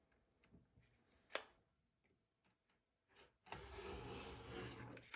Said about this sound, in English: this rotary cutter goes through 8 layers of cotton with no trouble at all